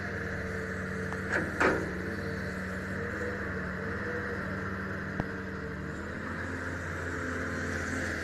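A Cat 320C excavator digging a pond in a spring-fed rice field gives off a faint, steady diesel drone with a couple of brief clanks early on and a single sharp knock partway through.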